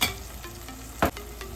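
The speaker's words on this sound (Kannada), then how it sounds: "ಈ ಒಗ್ಗರಣೆ, ಈ ಪುಡಿಗಳು ಒಂದಕ್ಕೊಂದು ಹೊಂದ್ಕೊಳ್ಳೋವರೆಗೂ ಇದನ್ನು ಫ್ರೈ ಮಾಡ್ಕೊಳ್ಳೋಣ" Spice powders (chilli, coriander and garam masala) fry in hot oil for a tempering for avarekalu tomato bath, giving a soft, steady sizzle with a couple of brief scraping stirs.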